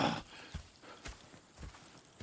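Horses clip-clop at a slow walk in Red Dead Redemption 2, a steady rhythm of soft, close hoof thuds, about two steps per second, with no talking.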